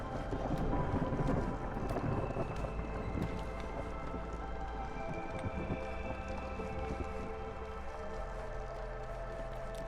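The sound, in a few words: storm thunder and rain in Against the Storm video game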